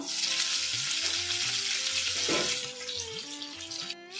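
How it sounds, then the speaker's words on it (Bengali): Masala-coated fish frying in a covered pan over low to medium flame, a loud, steady hiss of sizzling oil running throughout without a break, with faint clinks near the end. "লো টু মিডিয়াম ফ্লেমে মাছটা আমি 5 মিনিট ঢাকা দিয়ে ভাজা করে নেব"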